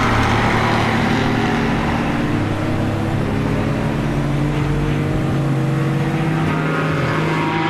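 Loud, continuous engine roar from GT race cars lapping Autodrom Most during a GT Cup and FIA CEZ endurance race, with several cars running close together and whining through gear changes, with no talk over it.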